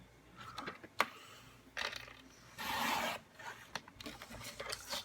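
A paper trimmer slices cardstock at close range, with soft shuffling and handling noises, a sharp tap, then a steady scraping swipe of the blade across the sheet.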